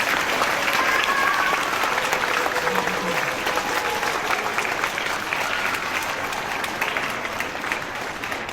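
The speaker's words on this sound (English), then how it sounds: "I would just like a round of applause to each service member" An audience at an elementary school Veterans Day ceremony applauds service members with sustained, even clapping from a crowd in a large room, holding steady throughout, with faint voices mixed in.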